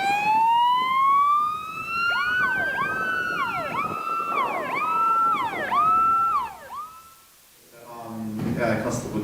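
Emergency sirens from an ambulance and police heading to a single-car crash wail in rising and falling sweeps, loud and close, fading briefly near the end before a voice cuts in.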